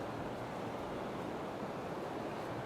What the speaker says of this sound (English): The sea is a little bit rougher than normal